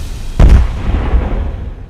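A controlled detonation of unexploded wartime ordnance by an emergency service demolition team delivers one loud, deep boom that rumbles briefly and then fades into a low tail.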